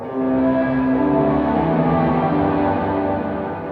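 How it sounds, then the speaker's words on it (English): A sustained electric guitar chord through a Jet Pedals Revelation plate reverb pedal rings out with a lush, shimmering reverb tail, fading slowly and smoothly at the end. "What you're going to hear now is just the plate reverb by itself."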